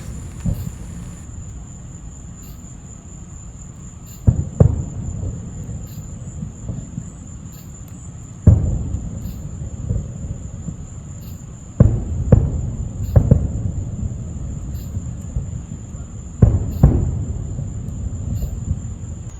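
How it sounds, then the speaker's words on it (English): Steady high chirping of night insects and frogs drones through a quiet outdoor night at a Florida campground, with occasional low distant booms and thumps of fireworks breaking in. "night sounds of the bugs and the frogs and the different animals that are out here at night"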